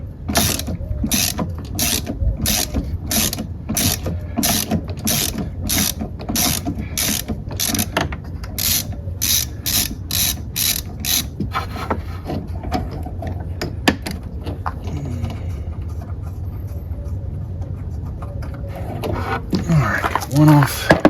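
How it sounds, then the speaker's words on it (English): A ratchet with a 13mm socket on a long extension clicks in rapid even bursts, loosening the brake master cylinder mounting nuts on a 2017 Ford Fiesta, then gives way to quieter turning and handling noises near the end. "we're going to use our 13mm socket on a long extension, and we're going to take off the mounting bolts,"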